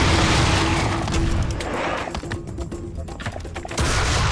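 Loud, dense burst of rapid gunfire in the video game Serious Sam 3, with a booming, crackling texture, easing briefly midway before surging again.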